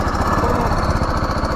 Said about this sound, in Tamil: த்ராட்டல் சவுண்டு கேட்க எல்லாம் ரெடியாக இருங்க.